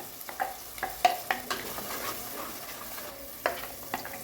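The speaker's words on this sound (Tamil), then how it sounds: "மசாலா நல்லா வதங்கிட்டு இருக்கு." Masala paste for potato curry sizzles softly in hot oil while a spoon stirs and scrapes the pan in irregular clinks; no one speaks.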